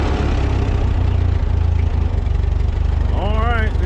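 A Ford 9N tractor engine idling low with a fitted governor, a close, loud steady throb with rhythmic pulsing, and a voice speaking near the end.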